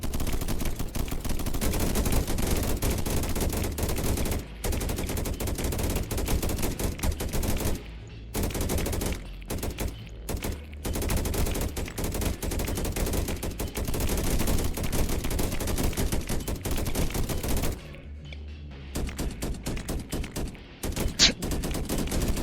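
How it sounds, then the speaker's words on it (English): Sustained heavy gunfire in a video game, dense automatic bursts with a few sharp sniper rifle cracks near the end, loud and continuous with brief gaps, no talk. "That was a sniper rifle?"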